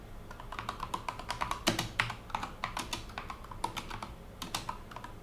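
Quick, uneven typing on a computer keyboard, a close run of sharp key clicks with a few heavier strokes, heard alone without talk.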